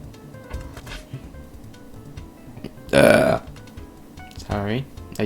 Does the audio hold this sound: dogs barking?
no